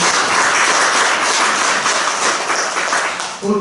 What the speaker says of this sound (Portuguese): Vamos aplaudir essa palavra.